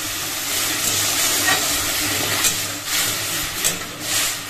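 Roasted semolina sizzles loudly as water hits the hot pan, a steady broadband hiss with soft scraping from continuous stirring, close and with no talk over it.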